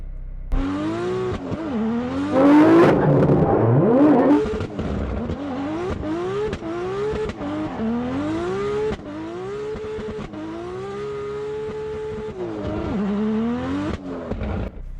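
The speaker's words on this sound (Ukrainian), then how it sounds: "А тепер подивимось на дріфт Ахмеда, адже для цього машина і зроблена." A 1200-horsepower Lexus drifting, engine revving hard and repeatedly, pitch rising and falling in long sweeps, with a loud burst early on and no talking.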